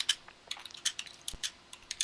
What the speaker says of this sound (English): just while he's quickly typing